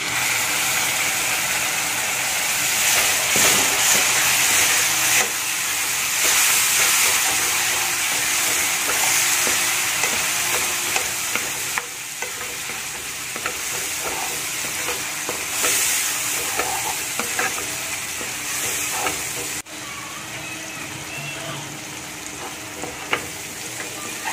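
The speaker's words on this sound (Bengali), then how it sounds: "এখানে আমি টমেটোর যে জুসটা বানিয়ে রেখেছিলাম সেটা আমি এর মধ্যে গ্রেভির মধ্যে দিয়ে দিচ্ছি।" Tomato juice poured into sizzling kabuli chana masala gravy, then stirred: loud continuous close sizzling and bubbling with repeated scraping stirs and occasional utensil knocks throughout.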